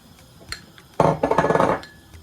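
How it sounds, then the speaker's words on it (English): Onions drop into a cooking pot for a Togolese meal with a sudden burst of rattling and clinking, followed by a brief scatter of taps, after a few faint knocks. "So now I'm adding onions"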